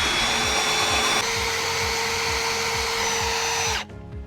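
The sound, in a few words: drill with tungsten carbide bit drilling through slate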